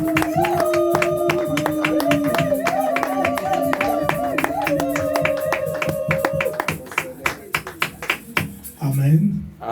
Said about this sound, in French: Acclamons très très fort pour la gloire de Dieu